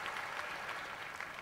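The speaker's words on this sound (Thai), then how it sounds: "ขอเสียงปรบมือเป็นกำลังใจให้กับทั้ง3ท่านที่ไม่ได้ไปต่อกับเราด้วยคร ับ" A studio audience at a televised singing competition claps for eliminated contestants, steady dense applause filling the whole moment, fairly distant and even, with no voices.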